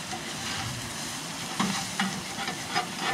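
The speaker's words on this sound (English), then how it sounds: "And then what you do is you just stir it around, man." A breakfast casserole is stirred in a cast iron skillet over a camp fire, a steady close sizzle and frying hiss with a few light scraping clicks of the utensil, no talking.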